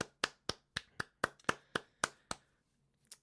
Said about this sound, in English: Can we give Ffion a humongous round of applause